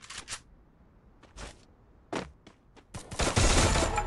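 Gunfire in a video game comes as scattered short bursts and single shots, building to a dense, loud volley at the end.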